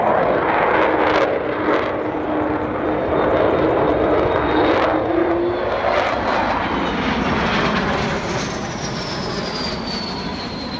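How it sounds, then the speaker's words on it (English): Avro Vulcan XH558 jet bomber flying a display, its loud sustained engine roar sweeping past with a rising howl and shifting pitch as it passes overhead. "So it's coming in now, stage right, for what will be a slightly unconventional Vulcan display"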